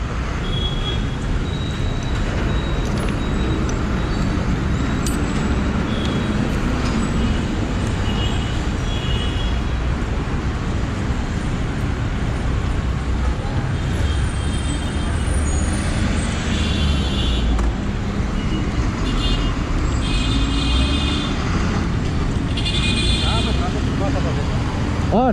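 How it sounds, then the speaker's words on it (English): Heavy road traffic in Bengaluru, a dense continuous roar of cars, buses and engines with occasional air-brake hisses and horns, heard from among the vehicles with people talking over it at times. "Traffic is huge."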